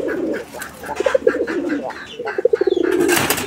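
Lotan pigeons coo close by, repeated soft throaty rolling calls in quick pulsing bursts, with faint rustling in the background.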